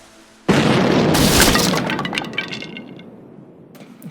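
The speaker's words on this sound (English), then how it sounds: "and an explosion went off" An explosion sound effect bursts in suddenly after a short quiet: a loud blast mixed with shattering, crackling debris that tails off over about three seconds.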